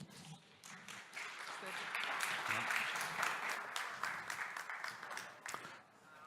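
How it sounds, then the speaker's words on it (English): Audience applause at a data science conference talk, a dense steady wash of clapping from a large crowd that holds for several seconds and thins out toward the end. "I would like to invite you to give a round of applause for our next speaker"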